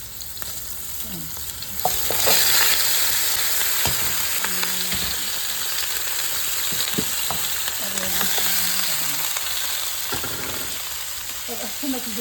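Chicken wings frying and sizzling steadily in a pan, with stirring and scraping of a utensil against the pan and brief talk over the sizzle.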